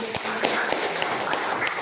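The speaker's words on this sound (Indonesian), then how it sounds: "Kita kasih semangat sama kawan kita, kasih tepuk tangan ya" A classroom of seventh-grade students applauding: a brief patter of scattered claps and taps, mixed with some talking.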